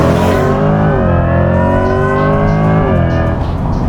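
A 2024 Chevrolet Corvette E-Ray hybrid accelerates hard with a loud, close engine roar whose pitch climbs, dips briefly at a shift and climbs again with no pause in drive.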